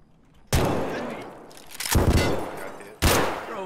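Gunfire bursts out in a Scav firefight inside a shooter video game, three loud volleys landing roughly a second and a half apart, each one followed by a ringing decay.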